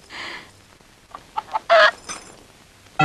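A hen clucking in a scene from a Rajasthani folk film, a few short, sharp clucks in quick succession, fairly close and loud, with quiet gaps between them.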